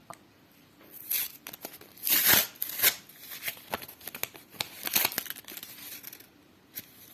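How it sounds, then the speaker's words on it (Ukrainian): Paper and foil packets being ripped open close by, a series of sharp tearing and crinkling bursts with quieter rustling between them. "я так розриваю пакетики, що мені їх шкода"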